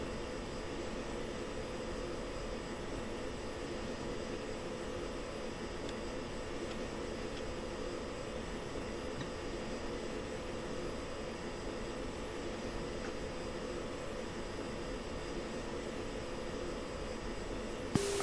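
A jet aircraft is landing, heard as a constant broadband engine roar that holds steady throughout without any clear rise or fall, continuous and alone with no voices.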